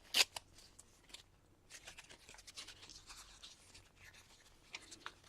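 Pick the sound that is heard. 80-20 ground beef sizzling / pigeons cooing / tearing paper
tearing paper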